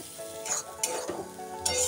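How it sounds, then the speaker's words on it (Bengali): Moong dal and tomatoes are stirred in a frying pan for a vegetarian pointed gourd dish, giving a brisk close sizzle with scraping strokes of a spoon against the pan. "মুগের ডালটা দিয়ে আমি ভালো করে একটু নেড়ে চেড়ে নিচ্ছি।"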